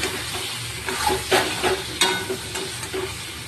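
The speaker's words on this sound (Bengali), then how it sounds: "পটল আলুর তরকারি কষাচ্ছি" Pointed gourd and potato curry sizzles steadily in a pan while a spoon scrapes and stirs it in irregular strokes, a close, moderately loud frying hiss with clinks and no voices.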